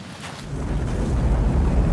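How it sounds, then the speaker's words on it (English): Loud, rumbling wind buffeting the microphone, building over a couple of seconds into a steady roar. "it's going to be a windy one"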